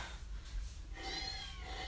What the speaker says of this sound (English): when she meows like that, she's either hungry or wants attention